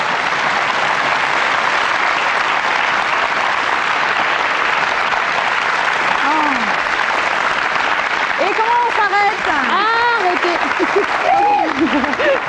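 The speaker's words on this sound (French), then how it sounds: "Applaudissements nourris," Sustained, loud applause from a French TV studio audience fills the whole stretch, dense and steady, with bursts of whistling or cheering rising over it in the second half.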